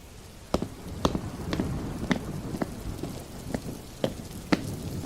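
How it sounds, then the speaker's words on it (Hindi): Steady heavy rain hisses through a night scene, with sharp drop impacts and splashes landing at irregular intervals over the continuous wash. "लेकिन ये बारिश है कि रुकने की नाम ही नहीं ले रहा है।"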